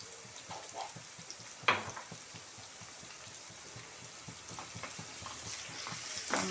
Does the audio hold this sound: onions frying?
yes